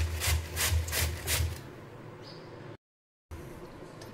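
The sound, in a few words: grating cabbage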